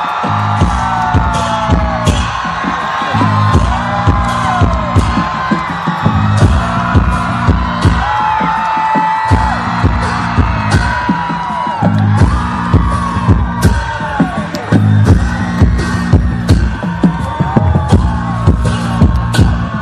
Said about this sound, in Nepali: कुमसागर सबैजनाले हात बजाएर ताली बजाएर उहाँलाई साइड गरिदिनु होला।